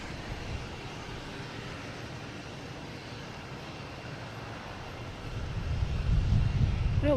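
A jet airliner's engines roar at Boston Logan Airport, a broad, steady distant rumble that swells louder toward the end as the aircraft nears, with faint talk underneath.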